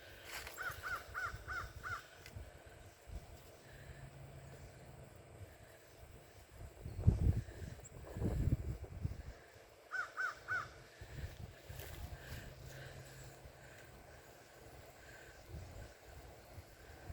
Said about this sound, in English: I was trying to focus on the birds